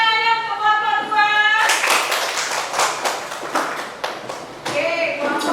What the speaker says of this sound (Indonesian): Mana tepuk tangannya untuk kelompok 2?